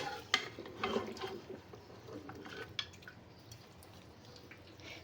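Wet, squishy stirring of mutton with salt and ginger garlic paste in a karahi pot, with a few soft clinks and slushy movements early on, fading to quiet near the end; faint and close.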